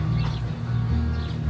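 Parrots call from fruit trees outdoors, their chirps faint and scattered over a constant low rumble of background noise.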